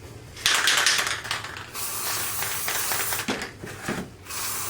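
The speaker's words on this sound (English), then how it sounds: "We're going to spray paint it white, just as we did our first layer." Aerosol spray paint hisses in several close bursts, with short pauses between passes.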